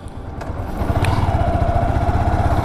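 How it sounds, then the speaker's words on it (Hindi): A Yamaha R15 motorcycle with about 12,000 km on it runs on a ride, its engine a steady, loud, low throbbing drone that builds slightly in the first second and then holds an even pulsing rumble, with no talk. "तो इस गाड़ी को चला के दिखाता हूं मैं आपको, तो चलिए थोड़ी सी राइड करवाता हूं इस बाइक के"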